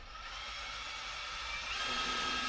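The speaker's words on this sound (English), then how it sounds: "I'm gonna be using my wand here. It's hooked to a drill to give me a nice good mix in here." A drill spins a mixing wand through a batch of homemade Mexican-style beer, producing a steady whine and churning hiss that builds slightly louder toward the end as the speed goes up, with no talk.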